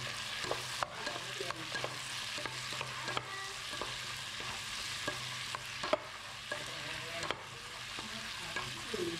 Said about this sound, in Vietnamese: Xào lên cho nó chín cho nó đó.